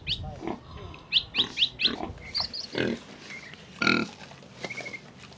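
Pigs on a small farm grunt and squeal in a scattered run of short calls, several voices close and moderately loud over a steady background murmur.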